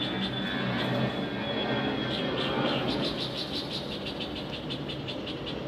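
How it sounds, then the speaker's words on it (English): A propeller or jet aeroplane passes overhead, a continuous broad roar with a whining engine tone, loud and steady throughout, with faint insect or frog chirps in the background and no talking. "Sorry about the aeroplane."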